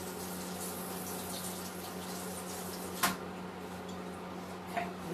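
A kitchen tap runs steadily as a knife is washed under it, a constant close water rush with a sharp clink about midway and a smaller knock near the end.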